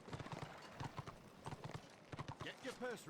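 Hoofbeats of a horse mount in the video game Return of Reckoning clip-clop in a steady trotting rhythm, close and clear, with a short whinny near the end.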